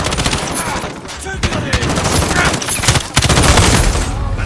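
Rapid bursts of video game gunfire crackle loudly and almost continuously during a first-person shooter match, with a player talking over the shots.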